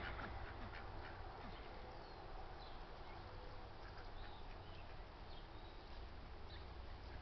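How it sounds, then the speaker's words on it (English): Ducks quacking in scattered bursts while foraging alongside young turkeys, over a steady outdoor background hiss, moderately distant, with no voices. "we will leave the happy ducks and little turkeys to browse to their content"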